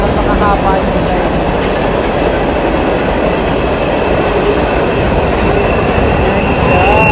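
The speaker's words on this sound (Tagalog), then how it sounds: "So cargo train yan. Napakahaba nyo guys." A long cargo train rolls past on the railway at Morant Curve, a loud, close, continuous rumble of wheels on track with faint squeals, steady throughout, with a voice speaking over it.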